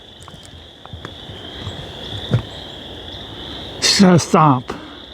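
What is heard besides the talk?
frogs croaking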